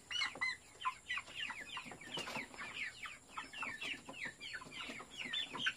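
Several backyard chickens, including Spartans, cluck and chatter continuously, overlapping short calls close by, with no voices present.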